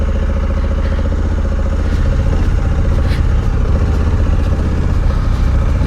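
A big motorcycle engine running nearby, a loud continuous low rumble that holds steady with a slight lift in intensity partway through, no talking.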